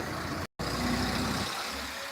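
A steady, loud tractor engine rumbles close by during heavy rain, with a brief cutout partway through before the drone resumes.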